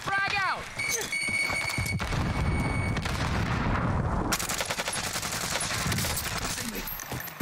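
A gunfight in the video game Warzone: bursts of automatic gunfire and explosive impacts come alongside a frag grenade throw. Players shout over the fire as the sound shifts into a denser, rumbling barrage.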